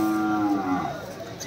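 A cow moos once in a long, drawn-out call at a busy Bangladeshi cattle market, close and fairly loud, with crowd noise and talk in the background.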